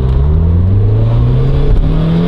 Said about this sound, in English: we're gonna see if this car sounds as loud as it does in my head versus actually in real life